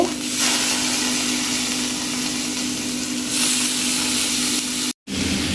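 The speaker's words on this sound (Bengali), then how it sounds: "এখানে আমি কোনো অয়েল ইউজ করতেছি না, আমি এমনিই ভেজে নেব" Tofu pieces frying in a dry pan with no oil, a steady close hiss and sizzle running throughout with a faint low hum beneath, broken by a brief dropout near the end.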